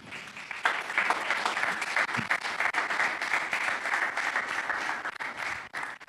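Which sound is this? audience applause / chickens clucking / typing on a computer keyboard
audience applause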